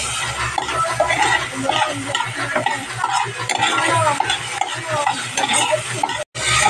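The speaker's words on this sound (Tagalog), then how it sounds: "nilagay ko ng ating kamatis para igisa" Tomatoes sautéing in hot oil for a mung bean dish, a loud close crackling sizzle with busy stirring and clattering utensil scrapes against the pan, ending in a brief cutoff.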